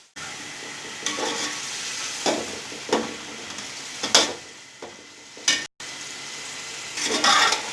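Chicken pulao fries over a high flame with pickle just added, giving a continuous sizzle broken by repeated sharp scrapes of a spoon stirring the pot, with one brief dropout.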